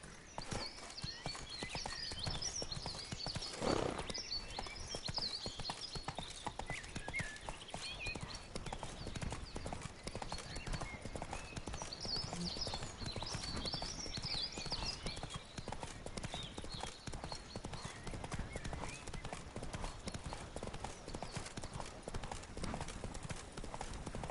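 Hooves of Roach, Geralt's horse in The Witcher 3, clip-clop at a steady galloping rhythm throughout, fairly close, with a brief whinny near the start and a faint murmur of game ambience underneath.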